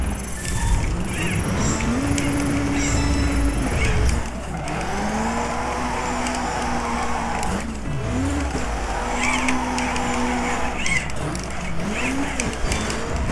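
Rally car in DiRT 3 gymkhana drifting, with engine revs rising and falling and sustained tire squeal through sliding turns, loud and close, over a steady roar of game noise.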